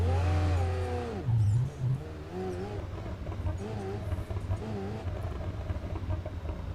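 A race car engine in the driving game Assetto Corsa EVO revs and shifts, its pitch sweeping up and dropping repeatedly under steady road rumble, loud and close throughout.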